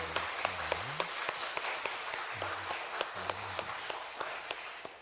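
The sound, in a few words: church congregation applause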